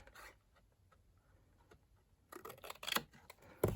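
Scissors cut a paper piece for a dragonfly gift box: a near-silent stretch, then a close burst of crisp snips and rustling toward the end, with no talk.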